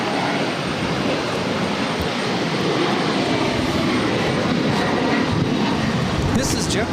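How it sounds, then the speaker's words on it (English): A JetBlue Embraer E190 jet takes off from Boston Logan, its engines a loud, sustained broadband roar that holds steady throughout, with voices talking underneath. "This is JetBlue Airways 2352 taking off to Nantucket on an E190"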